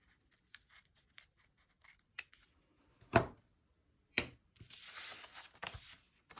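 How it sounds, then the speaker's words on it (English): Scissors snipping paper for a pop-up journal spread, a few sparse sharp cuts and rustles spaced out over near silence, close and fairly quiet. "It's easier for me to cut this way."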